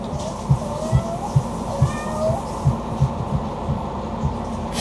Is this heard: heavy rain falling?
no